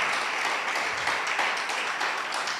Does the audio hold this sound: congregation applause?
yes